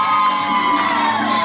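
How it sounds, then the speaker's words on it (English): A crowd cheers, whoops and applauds at a Ms Fitness Model bodybuilding competition in Sydney, a loud, continuous roar of voices and clapping filling the venue with a strong tonal ring under it. "give them a big round of applause"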